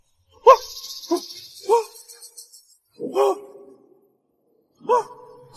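A man imitates a dog, giving a few short, yelping barks in separate bursts with pauses between them, close and clear against silence.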